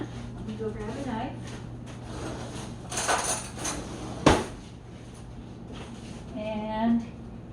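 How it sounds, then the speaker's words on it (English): Metal knife and cutlery clinking and clattering on a kitchen counter during bread-mix preparation with butter, with a few scattered clanks and one sharp louder knock near the middle, while a person talks over a steady low hum. "let me go grab a knife"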